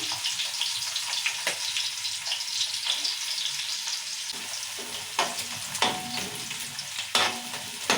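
Onions and green chillies sizzling in a pan, a bright steady frying hiss with occasional stirring knocks and scrapes, close up and fairly quiet, no speech.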